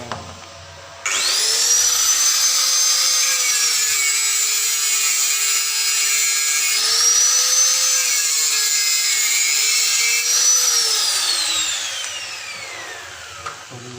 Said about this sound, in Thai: ท่านใดที่จะเอาลูกหมูมาตัดเหมือน ช่างนะครับ ต้อง ข้อมือต้องแข็งนะครับ เพราะว่ามันอาจจะมีการเกิดสะบัด